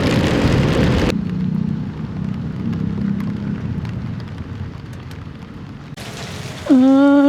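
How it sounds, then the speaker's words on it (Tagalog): Heavy rain falls during a storm at a small piggery farm, a constant close hiss of rain that dips slightly midway and swells again, with a brief high squeal just at the end. "Gawa ng malakas na po yung ulan."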